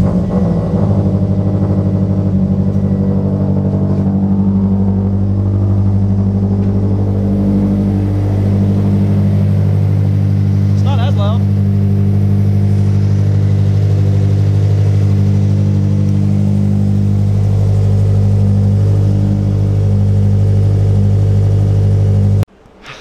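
A flat-four engine runs loudly and steadily close up, a deep throbbing idle with a slight rev, then cuts off abruptly at the end.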